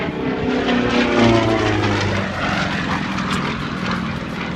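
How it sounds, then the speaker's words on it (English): A powerful model airplane hovers on its propeller in a prop-hang, its engine and prop giving a loud, steady drone with a slight swell near the middle and a continuous close buzz throughout. "With all that horsepower, it's just so much fun to hang the airplane on the propeller."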